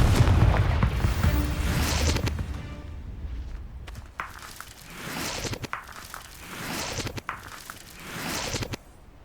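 Confringo fire-blast spell in the Hogwarts Legacy video game, erupting in a loud, booming explosion with a heavy low rumble that fades, followed by several sharper crackling bursts and thuds.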